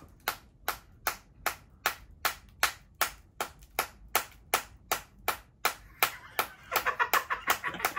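A small hammer strikes a geode in a steady series of sharp, evenly spaced taps, about three per second, close and fairly loud with no talking; the last strikes grow brighter and ring slightly.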